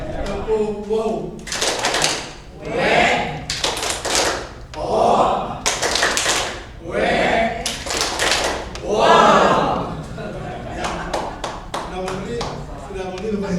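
A group of people performs a rhythmic clap chant at an Indonesian teachers' event, bursts of sharp clapping alternating with shouted responses and a leader's voice calling over them.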